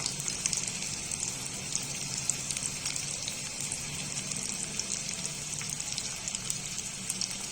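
Garlic fries in hot oil for a Marathi tadka while cooking village-style spinach bhaji, a faint, even crackling hiss with tiny pops running throughout and no talking.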